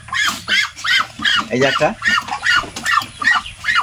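Ducks on a Bangladeshi duck farm, a flock of males and females, give loud, rhythmic quacking calls in quick repeated bursts, close and dominant throughout.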